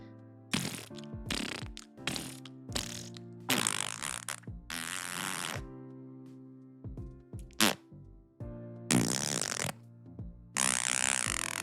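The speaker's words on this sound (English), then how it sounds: "those are some good farting sounds" A series of sputtering, buzzy fart sounds, some short and some drawn out, separated by pauses, loud and close with no talking over them.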